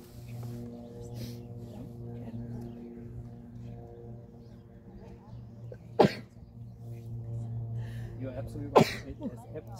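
Two sharp sneezes several seconds apart, cutting through a steady low hum, with a person talking briefly in between.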